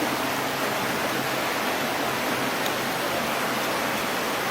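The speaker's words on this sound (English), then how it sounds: "So it's a river on my road now." Floodwater rushing down a road in Jamaica, turning it into a river past a shop front; a steady, dense, broadband roar of flowing water holds unbroken and fairly loud throughout, with no talk.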